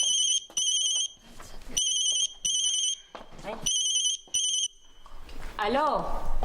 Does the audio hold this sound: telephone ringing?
yes